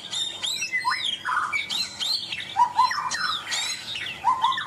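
Chinese hwamei songbird singing close and loud, a continuous run of varied whistled phrases, sweeping notes and quick chirps with no talking.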